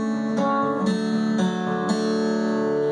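An acoustic guitar plays a fingerpicked pattern from a song tutorial, with ringing notes plucked at an even pace about every half second over a sustained chord, close and clear with no talking.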